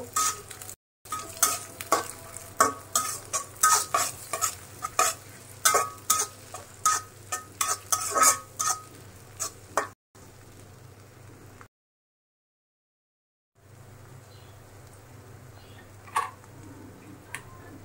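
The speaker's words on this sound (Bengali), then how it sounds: "জিরা, একটু ভালো করে ভেজে নেব।" Cumin seeds fry with onion in a pan for a fish curry, giving a steady soft sizzle under repeated scraping and stirring strokes that stop partway, leaving faint sizzling, a short silence, then a few light clinks.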